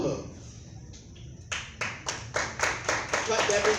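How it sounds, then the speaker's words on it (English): A quiet moment, then a small comedy-show audience claps in a loose, rhythmic pattern of distinct hand claps that grow slightly louder. "Clap that big clap, yeah."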